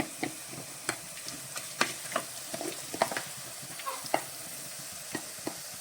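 Green chillies and curry leaves sizzle and crackle in hot oil in a pan, giving a low hiss with scattered sharp pops and a few stirring scrapes, close and fairly quiet. No voices.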